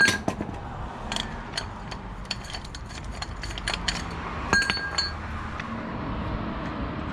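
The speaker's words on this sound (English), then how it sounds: "So now 54mm socket, we're undoing that first one." A 54mm socket works a wheel bearing nut loose on a Toyota Land Cruiser 70 series front hub, giving scattered metallic clinks and ratcheting clicks in short bursts, close and fairly quiet, with no talking.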